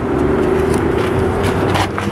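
A car is pressure-washed, with a loud, constant motorized hum under a broad hissing spray that runs steadily the whole time.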